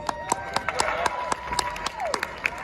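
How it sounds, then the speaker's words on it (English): Audience claps at a Celtic festival in Toronto, scattered sharp hand claps ringing out irregularly over a lively crowd, with a sustained tone and murmuring voices in the background. "Go ahead. Have a round of applause for me."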